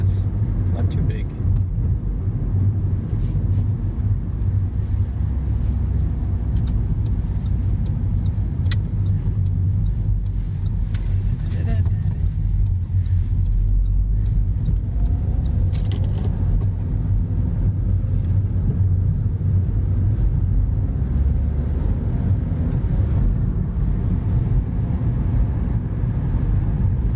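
Interior cabin noise of a 2011 Seat Leon Copa 1.2 TSI on the move, a steady low engine and road rumble with some wind buffeting, continuous throughout while someone talks over it.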